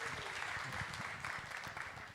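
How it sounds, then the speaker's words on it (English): An audience applauds at a corporate annual meet, a short, even burst of clapping that sounds faint and distant and lasts the whole moment. "Can we have a big round of applause for the new reveal?"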